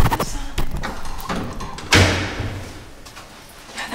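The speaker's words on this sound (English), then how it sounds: "that was just the door." A door in an abandoned home-care building gives a sharp, loud slam or thud, followed by a fading rumble and scattered faint knocks in a quiet interior.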